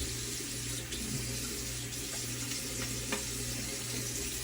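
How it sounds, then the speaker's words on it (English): Cold tap water runs steadily into a sink for rinsing the face after a shave, a continuous close hiss and splash with no talk. "let's rinse the face with cold water"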